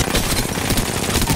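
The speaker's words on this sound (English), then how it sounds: "I'm taking shots." Rapid automatic gunfire in the Apex Legends battle royale game, a dense continuous burst of shots filling the short moment over busy in-game action.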